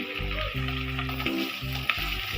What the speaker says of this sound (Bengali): এই কোরমা করতে গেলে ডিম কিন্তু বেশি ভাজা যায়, যা অল্প ভেজে নিতে হয়